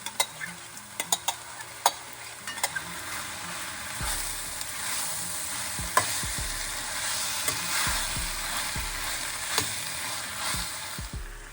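Seasoning cubes stirred into a Nigerian mackerel fish stew over low heat, a steady soft sizzle under repeated scraping and knocking of a spoon against the pot, with several sharper clinks along the way.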